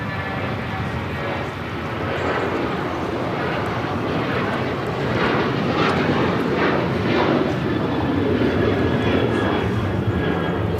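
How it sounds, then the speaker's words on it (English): American Airlines Boeing 737-800 taking off from LAX runway 25 right, bound for Chicago: a steady, loud jet engine roar that swells slightly as the takeoff roll builds, with no talk over it. "This is American Airlines 2608 taking off to Chicago on the 737-800."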